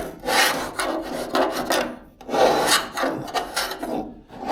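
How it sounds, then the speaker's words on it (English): Old paint scraped off the interior metal of a 1976 BMW 2002, heard as loud, close rasping strokes in two long passes with a brief gap between them, no talk. "So that scrapes."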